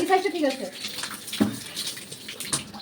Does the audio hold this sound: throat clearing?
no